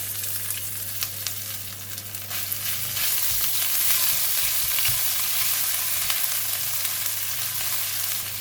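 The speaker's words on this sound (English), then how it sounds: "Continue to stir fry until they release a nice aroma." Garlic and ginger stir-fried in hot oil, a dense continuous sizzle that swells louder partway through, with a low steady hum beneath and occasional utensil clinks, no talking.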